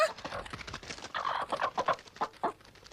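A cartoon chick hatching from an egg gives a run of bright, close clucking chirps in quick uneven succession, fairly quiet overall.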